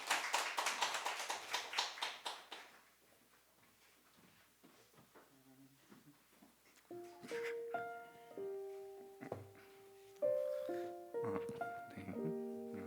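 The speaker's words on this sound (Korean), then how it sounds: "박수로 모시겠습니다" Scattered, fairly loud clapping from a church congregation welcoming a speaker to give testimony at a Sunday service fades out after a few seconds, followed by quiet room sounds and soft piano notes.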